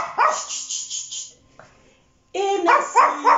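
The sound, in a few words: dog barking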